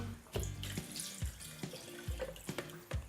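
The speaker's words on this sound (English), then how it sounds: "Let me add the milk. Pour this in." Milk is poured into a container in a kitchen, a steady liquid splash broken by a few clunks and knocks, fairly close and moderately loud with no talking.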